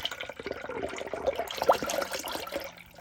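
Coolant poured into the cooling system of a Dodge Durango 392 during a water pump replacement, a steady close liquid gurgle and splash running the full length without talk.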